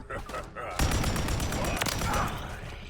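Rapid gunfire in Call of Duty Modern Warfare Zombies, played in third person, erupts suddenly after a brief lull and continues as a dense, loud burst of repeated shots, with a voice talking over it.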